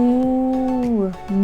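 A cow's moo, one long drawn-out low call that sags in pitch near the end, followed by a brief second lowing, heard close and alone with no talk over it.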